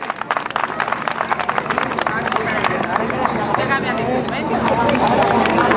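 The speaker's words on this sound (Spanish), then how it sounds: "Un fuerte aplauso para Tere." A crowd at an April Fair performance applauds a performer, dense clapping and hubbub mixed with chatter and a voice over a PA, sustained and close throughout.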